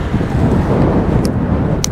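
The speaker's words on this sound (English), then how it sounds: "Whoa, it's cold and windy again today." Steady roaring wind buffets the microphone of a rider on a HUCK Cycles electric motorbike on a cold, windy road, a constant close rush with no speech.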